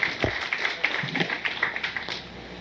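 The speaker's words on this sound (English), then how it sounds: "A round of applause, please." Audience applause after a talk on helicopter wake turbulence, a dense patter of clapping that holds steady for a couple of seconds at moderate distance.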